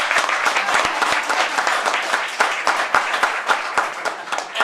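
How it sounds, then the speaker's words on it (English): An audience at a historic house museum's 50th anniversary event applauds. Crisp individual claps stand out from a steady round of clapping, fairly close and continuing throughout. "I'd like to give them both a long overdue round of applause for that."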